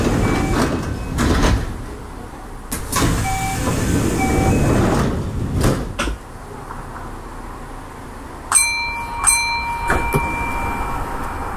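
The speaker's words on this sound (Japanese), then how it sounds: "扉が閉まります。 扉にご注意ください。" Train doors sliding shut on a Kintetsu 6400 series commuter train in the BVE5 simulator, with a low rumble of mechanism thuds followed by a brief repeated chime and a steady warning tone near the end.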